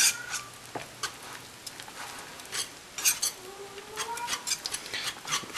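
Shredded cheese being stirred into pork tenderloin in a pan, brisk scraping and clinking of a utensil against metal in irregular close strokes, with no talk.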